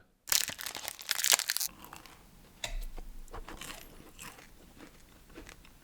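Hard candy pellets crunch loudly between the teeth in close ASMR style, with a few sharp bites early on followed by steadier, softer chewing.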